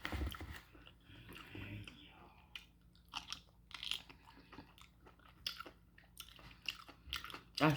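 Close, quiet chewing of beef bone marrow with onions and fresh garlic, soft crunches and wet bites coming in irregular bursts, with brief murmurs between mouthfuls.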